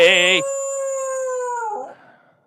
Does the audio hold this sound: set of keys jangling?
no